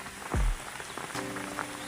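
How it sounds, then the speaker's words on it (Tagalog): Heavy rain falling outdoors, a continuous hiss of drops on surfaces with a brief low thump near the start and faint scattered sounds beneath the steady downpour. "So panay ang ulan mga friend"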